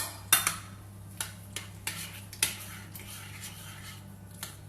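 A spoon scraping and tapping against a dish while sausage meat stuffing for stuffed tomatoes is mixed, a series of separate clinks at uneven intervals over a low steady hum, close by and without speech.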